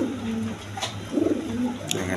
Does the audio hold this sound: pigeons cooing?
yes